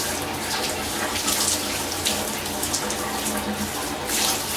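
Shower water runs steadily during a head shave, a loud, close, continuous hiss and patter of spray with small surges and no voice.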